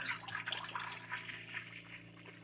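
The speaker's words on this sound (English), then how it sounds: "in here I'm going to pour 1 gallon of milk" A gallon of whole milk pours into a pot in a continuous, faint liquid splash and gurgle with slight fluctuations. It plays alone over a low background hum.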